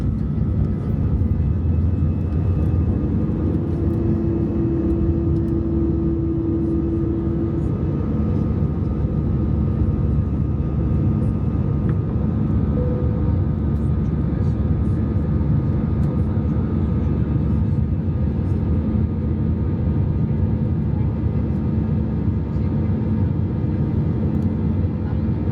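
Steady, loud cabin roar inside an airliner during its descent toward landing at Paris, a constant broadband engine and airflow drone that fills the whole stretch with no voices.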